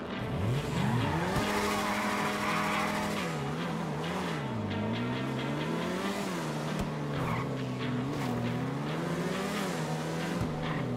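A motorbike ridden in GTA Online, its engine droning loud and close throughout, pitch climbing and dipping as it revs, shifts and weaves, with brief tire squeals and no talk.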